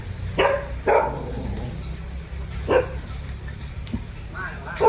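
A dog barks during an outdoor cooking session making bamboo-tube sticky rice, with a few sharp barks spaced apart over a low background rumble and voices talking.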